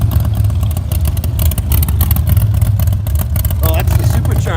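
A supercharged car engine at a car show revs loudly and close, a throaty, continuous roar amid crowd noise and clatter.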